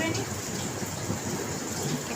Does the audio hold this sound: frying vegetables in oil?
no